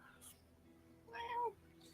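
A kitten meows once in a tabletop game scene, a short rising-falling cry over a quiet room with faint low background hum.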